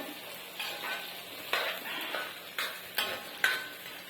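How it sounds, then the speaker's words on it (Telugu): Bitter gourd slices fry in an iron kadai with turmeric and salt, giving a steady soft sizzle. Regular scrapes and knocks of a spatula stir the pan about once a second. "కాకరకాయలు కొద్దిగా పసుపు, అట్లనే కొద్దిగా ఉప్పు అయితే వేసి ఇలా వేసి వేయించుకుందాము"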